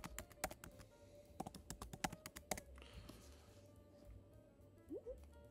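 Quick bursts of keystrokes on a computer keyboard as an email address is typed, crisp clicks in uneven clusters during the first half, then quieter, sparser taps over a low room hum.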